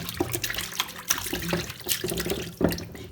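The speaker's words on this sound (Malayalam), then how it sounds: "ഇച്ചിരി ഉപ്പിട്ടൊന്ന് കഴുകി എടുത്താൽ മതി" Running tap water splashes as a small scaleless fish is washed with a little salt in a kitchen sink, close and moderately loud with uneven rinsing bursts and brief clatters.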